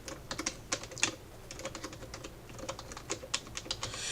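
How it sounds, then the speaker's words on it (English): Someone types on a computer keyboard while entering a business name in a website editor, with quick irregular clicking keystrokes close up and fairly quiet, with no talking. "I just selected it and started typing"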